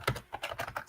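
Quick, light keystrokes tap on a computer keyboard, several clicks in an uneven rhythm, close and fairly quiet with no talking.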